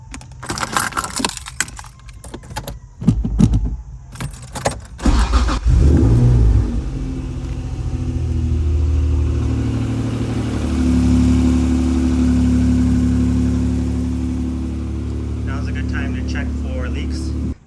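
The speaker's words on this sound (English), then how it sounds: "I'm going to start the engine now." Acura NSX engine from the 1991–2005 generation cranks and catches after a few seconds of clatter, then settles into a steady, loud idle with a low, even hum that continues to the end.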